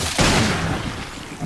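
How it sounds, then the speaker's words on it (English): A single heavy Colt Python magnum shot in Resident Evil Revelations, a loud booming blast with a long rumbling decay. "2 shots from the Colt Python to take down a pincer ooze"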